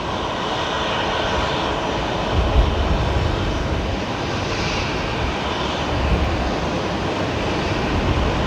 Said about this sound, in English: Oh, Air New Zealand's heading off now as well.